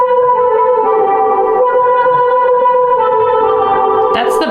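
A musical track runs through a pedal board with EQ and reverb, producing sustained, layered tonal notes with a washy echoing tail, steady and loud throughout, with a brief bright burst near the end.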